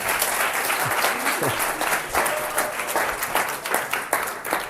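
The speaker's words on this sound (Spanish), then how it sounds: "Un aplauso para mi discípulo Tristán." A crowd applauds steadily throughout, dense clapping that holds at a fairly even loudness with no voices standing out.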